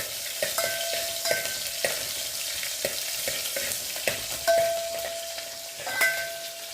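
Green chillies fry with cumin in a pan, giving a steady sizzle broken by light clinks and scrapes of stirring against the pan.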